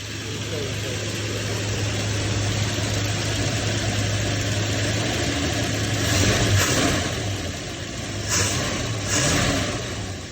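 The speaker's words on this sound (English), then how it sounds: "Give it a little bit of gas, not too much, just kind of rev it a little." Carbureted engine of a 1967 Barracuda that sat for about 20 years, idling steadily with a low hum, then given a few light revs that swell and fade near the end, with people talking over it.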